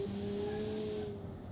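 A four-cylinder car engine revs in a racing video game, a steady synthetic drone with a rising harmonic as it shifts up, fairly faint and alone for a moment.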